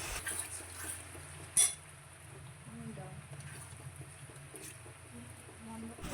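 Ground rice paste being mixed into a Bengali jaggery ambal on the stove, low bubbling and sizzle with scattered spoon clinks and one sharp metallic knock early on, fairly quiet throughout.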